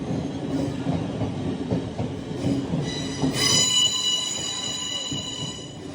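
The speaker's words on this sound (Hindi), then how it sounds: "ये जो है ये ट्रेन स्टेशन है।" A train rumbles and clatters through a station with a steady mechanical roar, then high-pitched wheel squeal rises sharply near the middle and rings on for a couple of seconds, loud and close with no voices.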